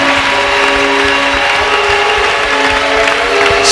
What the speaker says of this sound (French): Go ahead and give Jesus his clap.